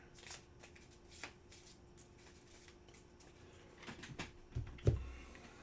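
Cards for the Stars of Akarios tabletop game being shuffled, a soft riffling and sliding that builds to a few louder snaps and taps near the end, close and quiet with no talking.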